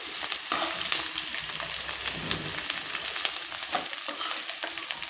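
Cauliflower (gobi) frying in hot oil, a steady, dense sizzle and crackle throughout, close and loud with no voices.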